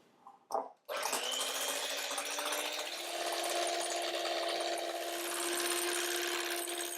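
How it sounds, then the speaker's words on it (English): An electric hand mixer beats macaron egg whites in a bowl after a brief click. It gives a continuous, close, steady whirring drone for several seconds with no talk. "to beat it up, I'm using a hand mixer today"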